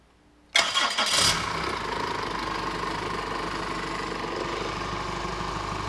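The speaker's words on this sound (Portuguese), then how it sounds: "vou funcionar o motor, quando estiver funcionando muito, provavelmente vocês não vão me ouvir falando" A car engine on a MAF sensor test cranks and catches with a loud burst, then settles into a steady, continuous running rumble close by, with no one talking.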